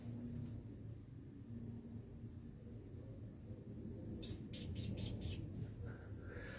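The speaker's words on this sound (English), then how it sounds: "Sun is shining and the birds are literally singing." Several birds chirp in short repeated bursts outdoors on a sunny day, fairly clear above a steady low background rumble.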